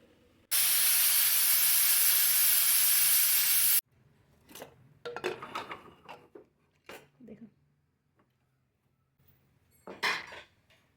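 A pressure cooker of mutton curry releases a loud, steady burst of hissing steam for about three seconds, followed by quieter kitchen clatter and someone talking.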